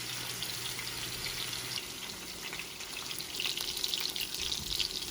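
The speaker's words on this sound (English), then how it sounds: "now I'm going to start to add my lamb chops. We're going to pan sear." Lollipop lamb chops searing in a hot pan give a steady, close hiss of spitting fat that swells louder toward the end, with no voices.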